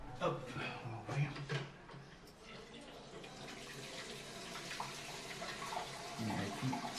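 Water rushing into a wall-hung toilet cistern as the supply is turned back on after descaling with acid, a steady close hiss and splash with a voice speaking over it.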